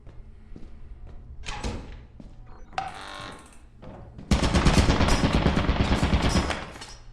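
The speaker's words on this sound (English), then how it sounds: "Yeah, so that's a turret." A turret gun in a horror video game fires. Scattered thumps and short bursts come first, then a loud, sustained rapid-fire volley close by that runs for about three seconds before cutting off.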